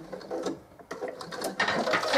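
A sewing machine stitches a fabric coaster in short close bursts, pausing briefly and then running again faster and louder toward the end.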